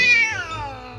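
A cat lets out one loud, close meow that starts high and slides downward over about a second, heard alone without talk.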